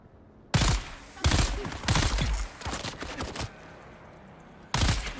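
Bursts of rifle gunfire in Dune: Awakening: four loud, sharp volleys in close succession, a pause, then one more burst, heard up close with no talking.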